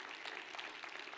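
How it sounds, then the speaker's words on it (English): Church congregation clapping together during a Sunday service, a dense steady wash of many hands throughout, moderately loud and without a break. "can we give a clap offering to the Lord"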